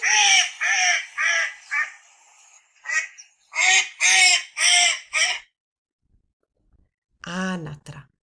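A duck quacks in a rapid run of loud, close, nasal calls, then pauses before a final short burst of quacks, with no other sounds around it.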